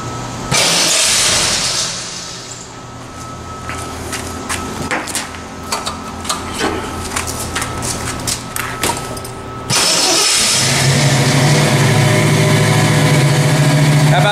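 A classic hot rod engine at the 2021 Hot Rod Power Tour cranks with a rapid starter chatter, fires, then jumps to a loud, sustained rev that stays close and dominant.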